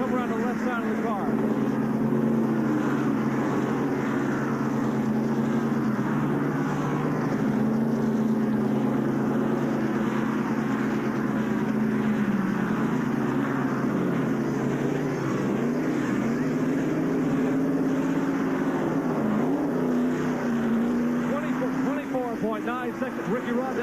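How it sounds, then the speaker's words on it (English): A Winston Cup stock car pit stop with a four-tire change at the 1989 Goodwrench 500: a steady, loud roar of race engines running throughout, with speech over it. "And the sound of a Winston Cup pit stop."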